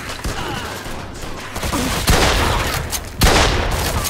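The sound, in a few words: gunfire in the video game Mafia II: Definitive Edition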